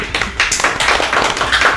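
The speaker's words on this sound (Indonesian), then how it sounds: "Tepuk tangan untuk duo John ini" Audience clapping for a comedic duo on a Surabaya talk show, a dense, steady wash of many hands close by, loud and continuous throughout with no talk over it.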